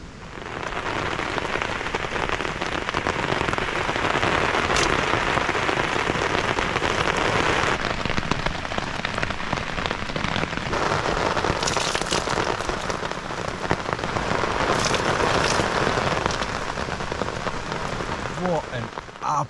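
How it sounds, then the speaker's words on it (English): Heavy rain pounds a tent at night while camping on the West Highland Way in Scotland, a dense, loud, constant drumming that fills the whole stretch with little variation. "What an absolutely crazy night that was. I've never seen rain like that"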